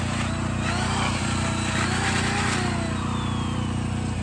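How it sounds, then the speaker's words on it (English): A tiny Stihl chainsaw with a small bar, used for chainsaw carving at the War Eagle Mill Fair in Northwest Arkansas, runs as a steady, loud, close engine buzz with no breaks. "That is a tiny little chainsaw."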